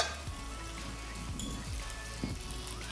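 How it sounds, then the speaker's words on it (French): A veal chop sizzles in very hot oil in a cocotte, making a steady, close, dense frying hiss with small pops and crackles throughout, no voices. "Je la place dans ma cocotte avec l'huile très chaude. Ça chante déjà."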